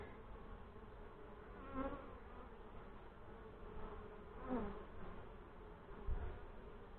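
Honey bees hum in a dense, steady drone during an open hive inspection over brood frames, close and continuous, with a few louder passes of individual bees.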